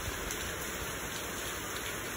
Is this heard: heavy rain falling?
yes